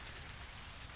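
Steady rain falling as a dense, even hiss throughout, used as ambience in a narrated horror story.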